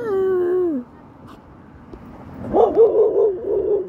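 A dog gives a short whining yelp, followed a moment later by a quick burst of barking close by.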